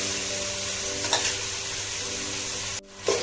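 Hot water is poured into a pan of hot oil for honey chilli chicken, giving a loud, dense sizzle that runs steadily and then briefly cuts out before surging back near the end.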